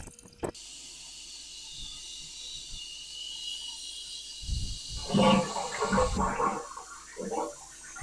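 A toilet flushes after repair, a loud rushing gush of water starting midway that follows a steady background hiss, then swirls and gurgles as it drains nearby.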